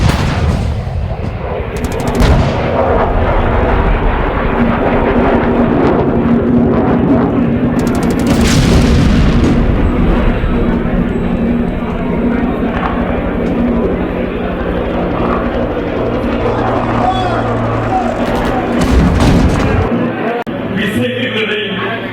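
Heavy booming explosions and a roaring war aircraft rumble fill the air continuously in a stage mono-act performance, loud and dense, with voices mixed in underneath.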